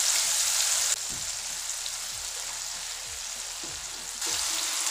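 Onion puree sautés in leftover kofta-frying oil for a nargisi kofta curry, a steady crackling sizzle with soft bubbling pops underneath, louder at the start and end.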